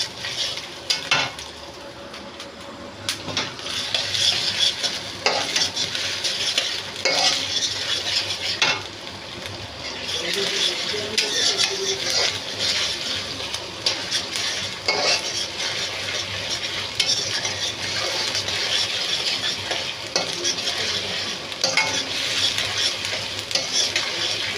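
Whole cumin seeds fry in a pan for a kochur loti dish, a dense bright sizzle that carries on steadily for the whole stretch, broken by occasional scrapes and clinks of a utensil.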